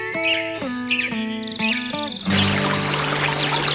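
The San Miguel river in Asturias rushes along as a steady broadband hiss in the second half, coming in after clear, sustained melodic tones.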